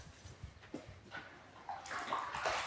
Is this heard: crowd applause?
no